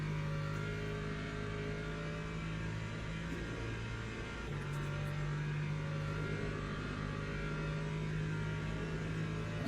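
Race car engine in Le Mans Ultimate droning steadily at sustained revs throughout, with shifting pitch as the car accelerates and settles, loud and continuous with no talk.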